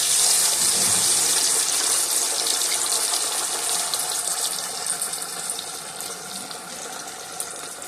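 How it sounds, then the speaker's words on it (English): Battered fish frying in hot oil in a pan, a steady dense sizzle and crackle that holds loud throughout and eases slightly toward the end, with no talking. "go ahead and slowly add it into the oil"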